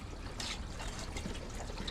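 Water trickles from a garden hose during gutter cleaning, a short, steady, close liquid dribble with light splashing.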